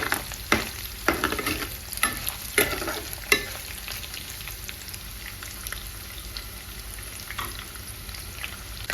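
Ingredients frying in a pan until golden, a steady sizzle with several sharp clattering stirs near the start, then continuous even frying.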